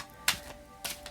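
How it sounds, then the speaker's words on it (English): A deck of tarot-style cards is shuffled in two quick, crisp bursts of rapid tapping and snapping, close and fairly quiet with a short pause between them. "shuffle before I pull cards."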